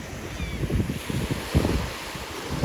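Gusty wind buffets the microphone in uneven rumbling bursts on a Sanibel beach, with a soft rushing background like nearby surf.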